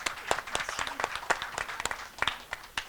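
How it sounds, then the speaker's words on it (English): Scattered applause from an audience at a SIIMA 2016 press conference in Singapore, a modest round of individual claps with distinct sharp hits spread unevenly over a few seconds, fairly close and moderately loud. "A big round of applause for Purnima ji"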